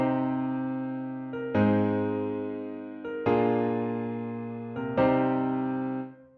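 A dry piano melody with no effects plays alone in FL Studio, sounding three clear chord strikes about every second and a half, each decaying evenly with softer notes in between.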